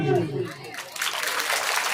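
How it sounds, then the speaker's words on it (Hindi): Devotees clap in unison during a Hindu religious ceremony at a Shrimad Bhagavat Katha, where a garland is placed on Lord Dwarkadhish; a brief voice opens, then a dense, steady wash of clapping fills the room. "आप सभी भक्त लोग ताली बजाएंगे"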